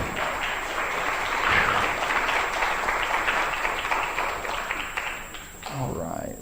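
Audience applause at a church fundraiser, steady, even clapping from a crowd holding for about five seconds before fading out, with a voice briefly audible at the end.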